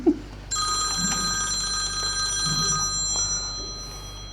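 A barge telephone keeps ringing with a sustained electronic trill over the low hum of a river barge engine room during main engine servicing, with a few faint knocks and thumps from work beneath it.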